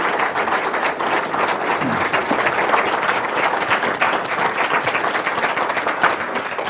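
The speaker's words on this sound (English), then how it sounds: "how about a round of applause for our two debaters?" Sustained applause from a debate audience for two debaters, a dense, steady wash of many hands clapping at moderate loudness throughout, with no voices over it.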